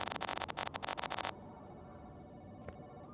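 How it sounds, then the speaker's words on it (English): A phone ringing in the video game Giraffe Town, a fast repeating electronic trill that rings for about a second and then stops, leaving quiet room tone. "Yeah, so I have to, like, hear my phone ring. Phone rings."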